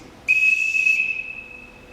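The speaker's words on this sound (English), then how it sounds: "I can't bear being whistled for." Captain's whistle blown once in a stage production of The Sound of Music, a single loud, piercing, steady tone held for about a second before trailing off.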